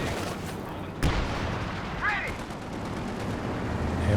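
Combat in Company of Heroes 2: a single sharp gun crack lands early, followed by a second fainter burst, over a low battlefield rumble, with a Panzer IV tank gun in the fight.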